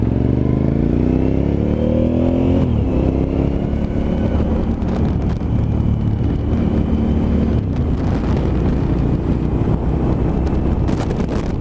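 A Suzuki TL 1000 R motorcycle is ridden on a road, its engine revving and rising in pitch through the gears, loud and close with heavy wind buffeting throughout and no speech.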